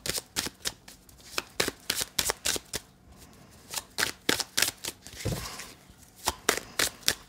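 Tarot cards being shuffled by hand in a steady run of crisp riffling bursts, close and fairly loud, with a brief pause midway and no talking.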